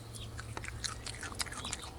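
Crunchy raw leaves of a mushroom plant being chewed up close, with a quick series of crisp, irregular bites and crunches, quiet and alone.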